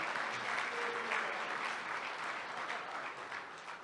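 An audience at a Hindi-Urdu poetry recital in Dubai applauds the poet, a soft, distant and continuous spread of clapping at an even level with no talk over it.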